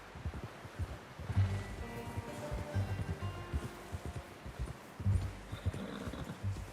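Steady clip-clop of horse hooves at a walking pace in the video game Red Dead Redemption 2, fairly faint, with light rustling in the background.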